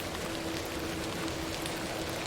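Rain pours steadily in the video game The Excavation of Hob's Barrow, a continuous even hiss of drops with no talk over it.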